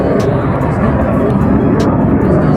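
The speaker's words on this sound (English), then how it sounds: "there's a fucking plane passing right now" A propeller or jet airplane passes overhead outside during a short-shifter install on a Mk6 VW GTI, a loud, steady broadband roar that fills the whole moment with no break.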